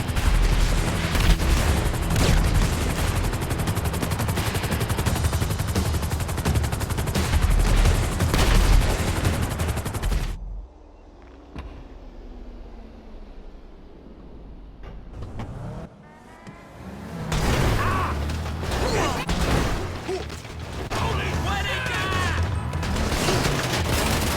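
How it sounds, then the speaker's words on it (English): Bursts of rapid gunfire and loud impacts crash in dense volleys in the GTA Online Cayo Perico heist, break into a quieter mechanical lull, then the shooting resumes heavily. "I deduce from the sound of gunfire that you have not gone for the stealthy approach"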